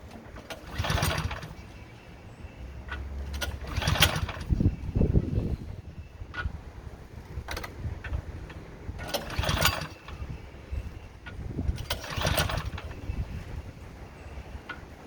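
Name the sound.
Craftsman snowblower engine starting up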